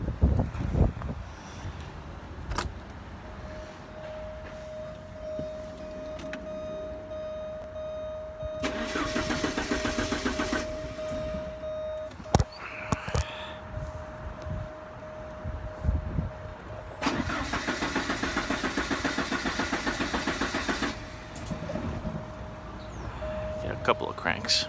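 Porsche 944 with a hard-start fault, starter cranking in two separate long bursts with quieter pauses between, alongside a steady whine and occasional clicks; a voice speaks between the bursts.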